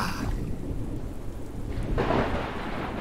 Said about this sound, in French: Bon, l'orage semble s'éloigner.